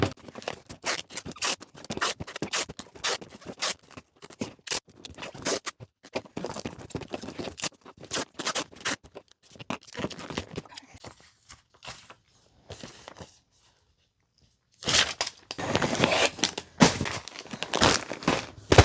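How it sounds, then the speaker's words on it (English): Packing tape pulled off a roll and pressed onto a shipping package, heard as long bursts of ripping and scratchy crinkling, close and loud, with a quiet pause before more taping. "So I'm really going to tape it."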